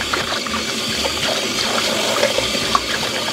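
Tap water runs in a steady, close gush while fish is washed.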